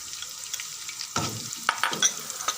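Onions frying and lightly browning in a pan for chicken haleem give a soft, steady sizzle, while a spoon stirs them with a few distinct scraping clacks that stand out over the hiss.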